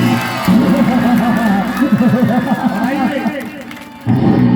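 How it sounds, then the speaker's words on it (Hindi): An audience at a live Shiv Vivah stage performance cheers and claps for the performers, with shouting, whoops and excited voices over loud music and a microphone voice. "एक बार ताली बजा दीजिए कलाकारों के लिए, जोरदार ताली।"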